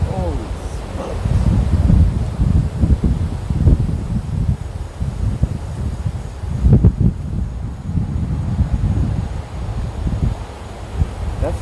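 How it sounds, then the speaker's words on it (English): Strong wind blows in gusty, rustling bursts against the microphone, a loud buffeting roar that swells and fades unevenly throughout. "That's literally the wind making all this noise."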